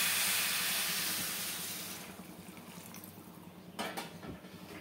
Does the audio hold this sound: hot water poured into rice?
yes